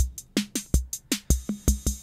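Clean synth and drum machine pattern, a keyed Mosstone and TR-606, heard dry and unprocessed: a quick, steady rhythm of sharp percussive hits and short pitched blips, close and alone.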